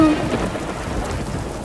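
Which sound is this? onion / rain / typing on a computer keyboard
rain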